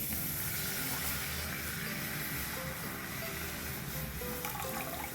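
Half a litre of milk poured into a pan in a home kitchen, making a steady, continuous liquid splashing and gurgling that stays loud and close throughout, with no talk.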